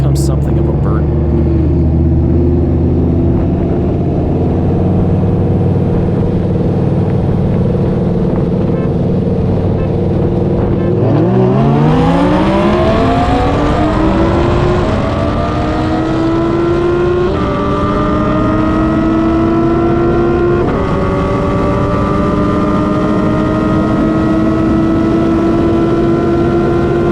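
A Dodge Viper, an old-school rear-wheel-drive manual sports car without traction or stability control, idles loudly, then revs hard and accelerates through several rising gear pulls with brief shift breaks, roaring close by while someone talks over it.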